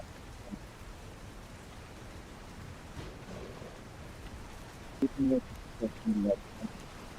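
Steady rain ambience played as a sound effect during a live tabletop roleplaying game, a continuous hiss of falling rain at moderate level, with voices speaking faintly underneath toward the end.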